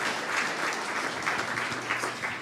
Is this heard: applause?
yes